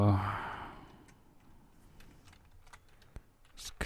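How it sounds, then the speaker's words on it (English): Scattered keystrokes tap on a Japanese computer keyboard, sparse and irregular clicks following a brief breathy sound at the start, close by in a quiet room. "Get out the old Japanese keyboard."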